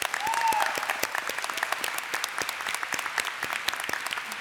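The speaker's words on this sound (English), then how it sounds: "Let's give them a big round of applause." An audience at a college graduation ceremony claps for honor society graduates, producing dense, sustained applause of many hands that stays fairly even, with crisp individual claps standing out from the crowd.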